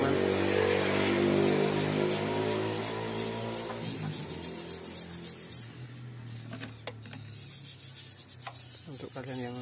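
A brush scrubs the diesel engine block of a steam washer motor, first as a loud continuous rubbing rasp, then breaking into shorter irregular strokes close by.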